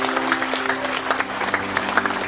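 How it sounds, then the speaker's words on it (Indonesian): A crowd at a Cak Nun and Kiai Kanjeng gathering applauds Pak Nevi, a steady wash of many hands clapping with a low background hum beneath it. "Tepuk tangan untuk Pak Nevi."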